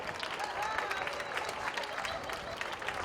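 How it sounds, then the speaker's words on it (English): Audience applause at a polo club awards ceremony after a match, a steady dense patter of many hands clapping together, sustained and fairly distant, with faint crowd murmur mixed in. "Let's give them another round of applause."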